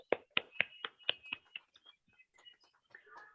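Audience applause at a DXN business meeting: a quick burst of a few loud claps fades into scattered, fainter claps, with no talk over it.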